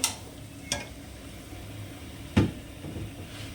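Peeled, halved potatoes dropped into a pan to stir-fry for Kolkata biryani: a few distinct clatters and thuds at irregular intervals over a faint, steady sizzle.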